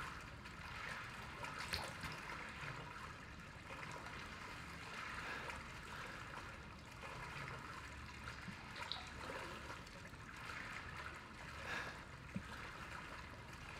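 Water trickles and flows steadily in the Resident Evil 7 video game, a faint, continuous babble with small splashy accents.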